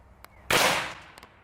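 A single sharp black powder gunshot cracks out at an ATM, a sudden loud blast that trails off over about half a second, with faint clicks before and after.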